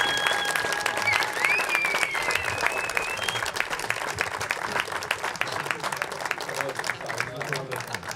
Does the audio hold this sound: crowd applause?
yes